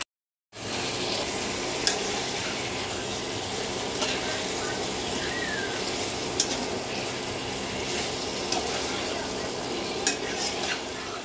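Food sizzles and fries steadily in a pan, with occasional clinks of a utensil stirring against the pan, moderately close and continuous without speech.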